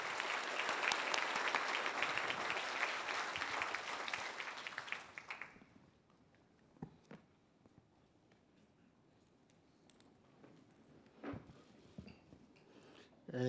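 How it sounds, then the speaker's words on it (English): Audience applause greeting a governor before a keynote speech: dense, sustained clapping from a large crowd that stops abruptly, followed by a quiet room with occasional small knocks and shuffles. "let us give a round of applause to welcome Governor Pan for his keynote speech."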